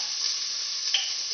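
Garlic dropped into hot oil in a pan sizzles loudly and steadily, a close, bright hiss that holds level throughout with a small spike partway through.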